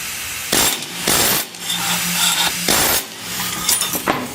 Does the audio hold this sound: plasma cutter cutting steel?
yes